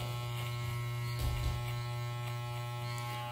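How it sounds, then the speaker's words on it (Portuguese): An electric hair clipper buzzes steadily and close up during a fade haircut, a constant droning hum with faint scratchy contact noise as it passes over hair, with no talking. "Agora eu vou subir a maquininha"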